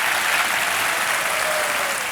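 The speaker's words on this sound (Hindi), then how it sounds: "तालियों के साथ आपका अभिनंदन करते हैं।" Studio audience applause on a television quiz show set, a dense, even roar of many hands clapping together that holds steady for a couple of seconds.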